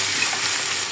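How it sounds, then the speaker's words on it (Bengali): Radish pieces frying in oil with turmeric and salt, a dense, steady close sizzle for a brief moment. "মূলাগুলো একটু ভেজে নিই হলুদ আর লবণ দিয়ে"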